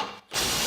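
A Snap-on CT-9010 impact wrench starts after a brief pause with a close, loud, rapid ratcheting hammer. The burst is short and holds steady to the end.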